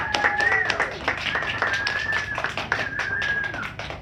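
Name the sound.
applause for students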